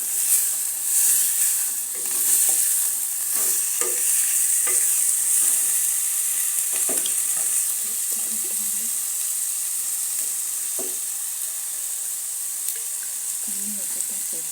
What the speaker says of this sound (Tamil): தக்காளி, அப்புறம் லீக்ஸ். நாங்கள் மிக்ஸ் பண்ணலாம்.